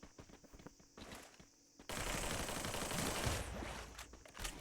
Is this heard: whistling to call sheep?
no